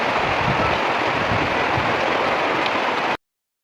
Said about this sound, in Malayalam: അപ്പോഴേക്കും നല്ല മഴയുമായിട്ടുണ്ടായിരുന്നു കേട്ടോ.